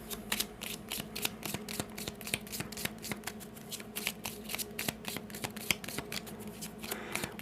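A deck of common playing cards shuffled by hand, with rapid crisp riffles and clicks repeating steadily and close, and no voices.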